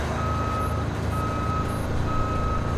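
Truck reversing beeps in the video game RoadCraft, a steady high alarm pulsing in long even tones at a regular rhythm over a constant low engine rumble, with no talk.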